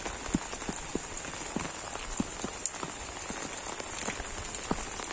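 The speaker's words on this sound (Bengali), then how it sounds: "এখন থেকে বৃষ্টি হচ্ছে, টানা ভোর থেকে বৃষ্টি হচ্ছে।" Heavy rain that has been falling since dawn pours onto flooded vegetable fields and a submerged drain, keeping up a steady hiss with regular patters and drips landing close by.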